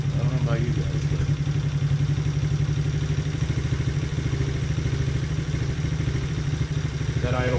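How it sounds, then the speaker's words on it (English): A TaoTao 125cc ATV engine idling after an oil change, a steady, close, loud chugging rumble that holds evenly from start to finish. "that idle sounds perfect."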